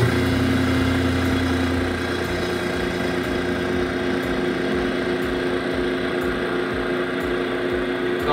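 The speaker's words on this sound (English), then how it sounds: "I'll go ahead and start that pump back up." A vacuum pump motor runs with a steady, loud mechanical drone. Its hum stays even and continuous throughout, with a slight change in tone early on.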